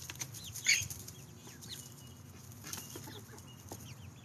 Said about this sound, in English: Gooses.